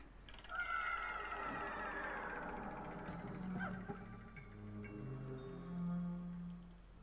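A cat meows repeatedly in the video game Pikmin 2, with drawn-out, wavering cries that fill the passage over quiet game background sound.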